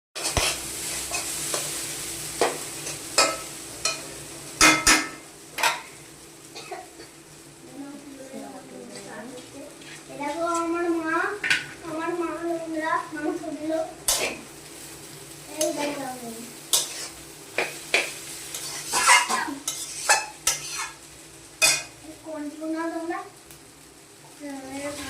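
Chow mein stir-fried in a home kitchen pan, with an ongoing sizzle and the scrape and clatter of stirring, while people talk over it throughout.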